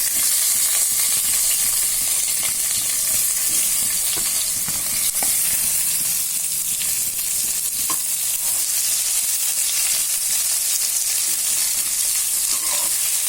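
Sliced big onions and green chili sautéing over a slow flame in a pan for chicken biryani, a steady broadband sizzle with occasional stirring scrapes, close and continuous throughout without any talk.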